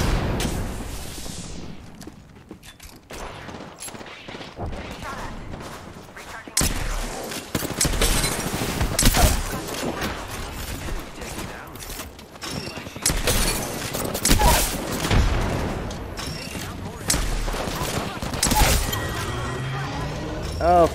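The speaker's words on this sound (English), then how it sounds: "They're getting shot by another squad." Rapid bursts of gunfire and loud impacts fill a fast Apex Legends firefight as another squad trades shots, with people talking over the sustained, irregular volleys.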